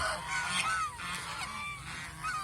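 Domestic geese honk repeatedly in a loud, overlapping chorus as a flock is let down into the water at a goose farm.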